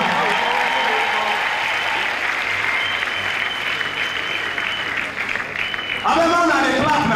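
A crowd at an International Widows Day celebration claps loudly and steadily, a dense wash of applause that carries on to the end, where a voice starts speaking over it.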